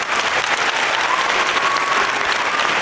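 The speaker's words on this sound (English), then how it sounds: "round of applause" Steady, dense applause from a studio audience fills the whole stretch at an even loudness, with a faint whistle-like tone riding over the clapping.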